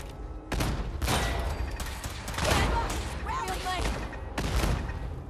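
Bursts of gunfire from shooting a non-player character in Fallout 4, several loud broadband shots spaced over a few seconds with mechanical clatter between them, and a voice talking over the shooting.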